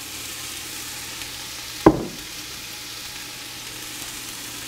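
Carrots and celery dropped into hot oil in a soup pot give a sharp burst of sizzle near the two-second mark. The sizzle fades back into a steady low frying hiss, with no talking.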